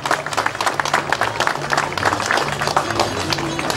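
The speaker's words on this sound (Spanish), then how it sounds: "Fuertes aplausos, por favor." Crowd applause at San Miguel Arcángel patron saint festival in Chaccrampa, dense and steady for several seconds, loud and close, with a low sustained musical tone running beneath.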